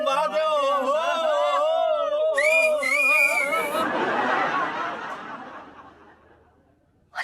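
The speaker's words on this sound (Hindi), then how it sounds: "पता नहीं किस पे सीटियां मार रहे हैं वो लोग।" Shrill, wavering whistles ring out from people in a street, several overlapping tones for about four seconds before giving way to a noisy burst of chatter and laughter that fades.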